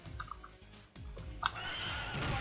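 A horse neighs in the video game Final Fight LNS Ultimate, a loud, shrill whinny rising over busy game noise and music.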